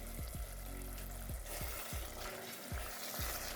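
Cauliflower stew for Ethiopian red wot sizzles and fries steadily in a pot, a continuous close crackle with a few low clunks and scrapes of stirring.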